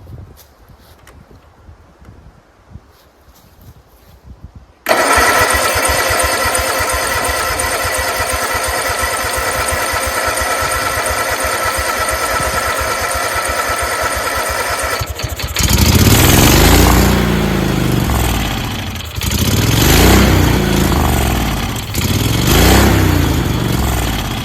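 A small engine with a carburetor problem is cranked and then fires, first a short pull, then a steady loud buzzing run, with its note rising and falling unevenly as the throttle is worked.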